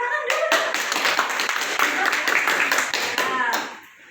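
Applause from a classroom group, a dense crackle of clapping hands lasting several seconds before fading out at the end.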